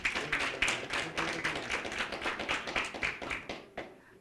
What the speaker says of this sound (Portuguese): Por favor, uma salva de palmas a eles